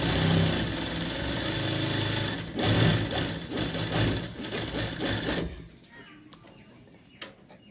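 Sewing machine double-stitching a shirt collar with silky thread, running in a fast steady whir for several seconds, pausing briefly, then stopping with a few quiet handling clicks afterward.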